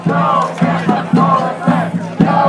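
A large protest crowd at a vigil and march against concentration camps in Aurora, Colorado, chanting a slogan together in loud, rhythmic unison, with evenly spaced shouted phrases repeating close by.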